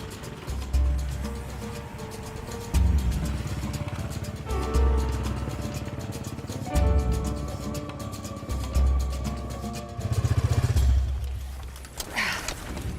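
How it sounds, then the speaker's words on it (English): Noisy street traffic in Yurimaguas, a river town of about 50,000 people, with motorcycle engines revving and passing nearby in repeated surges, continuous and loud over a busy background. "There's plenty of noisy traffic here"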